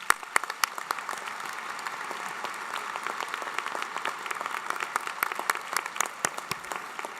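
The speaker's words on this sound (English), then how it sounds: "Please join me in applause for the faculty." A commencement crowd gives the faculty sustained applause, many hands clapping in a dense, steady patter with sharper individual claps standing out, continuing without pause.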